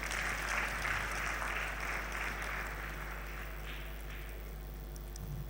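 At a university congregation ceremony, a crowd applauds a paramount chief, the clapping faint and distant under a steady low electrical hum.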